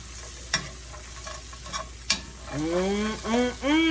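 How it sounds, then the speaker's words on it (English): Bacon crumbles are stirred into a mixture in an unheated pan, giving a few sharp scrapes and clinks of a spoon, followed by a louder tonal, voice-like sound toward the end. "let's go ahead and take our bacon crumbles and put them in there. Stir that around."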